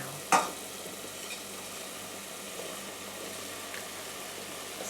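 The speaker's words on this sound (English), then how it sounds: "So let's keep stirring." Basmati rice frying in a pot while being stirred for a Punjabi rice dish: an even, soft sizzling hiss throughout, with one sharp scrape of the utensil near the start and faint stirring rustles after.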